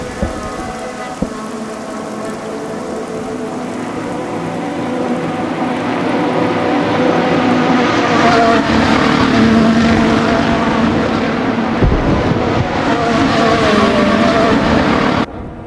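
Formula 1 cars, including the Red Bull and Mercedes, roar past during the 2024 Bahrain Grand Prix, a loud sustained engine wash that swells steadily and cuts off abruptly at the end.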